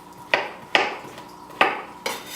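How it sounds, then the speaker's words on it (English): A knife cuts a very ripe pear into bite-sized pieces, landing as four crisp taps against a cutting surface at an unhurried pace, close up and without talk. "get to chopping"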